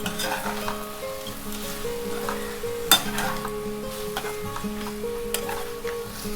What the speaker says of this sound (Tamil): இந்த காலிஃப்ளவர் எடுத்து அதில் கொட்டி கலந்துட வேண்டியதுதான்.